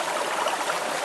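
A Zamberlan Vioz GT hiking boot stands soaking in a stream, the water rushing and trickling steadily around it, close and continuous with no talk.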